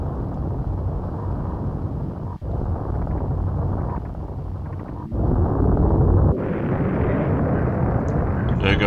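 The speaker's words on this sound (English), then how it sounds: "it looks like the planet Zippus is about to explode" Planet Zebes exploding in the Super Metroid video game: a loud, continuous rumbling roar of game explosions that carries on steadily, with sharp breaks and a brighter surge of blast noise toward the end.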